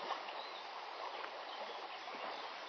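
Fast, high, slightly murky water of the Eder river rushing steadily, a dense broadband wash close by with no voices.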